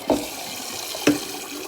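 Cold tap water runs steadily over hard-boiled eggs in a kitchen, a soft continuous splash with two sharper knocks about a second apart, and no voices.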